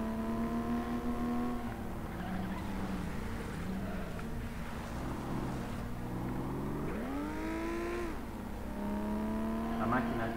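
Racing car engine in the FlatOut video game, revving up and down in sweeping pitch changes, with one strong rising surge, heard steadily under ongoing talk.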